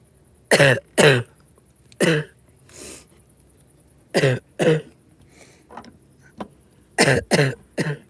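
Several sharp coughs come in short bursts, a pair, then singles, then a quick cluster of three, close and loud with brief pauses between.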